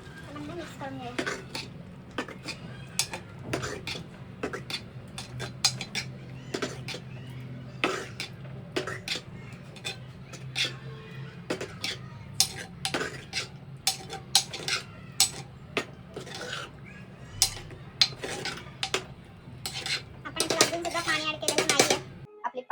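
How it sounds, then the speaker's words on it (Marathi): Boiled vegetables stirred into pav bhaji in a pan make scattered, irregular clinks and scrapes of a utensil against metal. They sound fairly close over a low background hum, with quiet voices nearby and a louder burst of clatter at the end. "मिक्स करून घ्यायचं."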